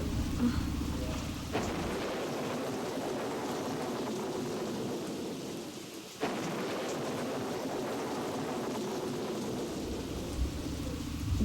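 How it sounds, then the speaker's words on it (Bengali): Heavy night rain pours steadily with gusting wind, a dense wash of noise with two sharp thunder-like surges partway through. "সারা রাতেও এই বৃষ্টি থামবে বলে তো মনে হচ্ছে না। আর বাতাসও কিরকম হচ্ছে।"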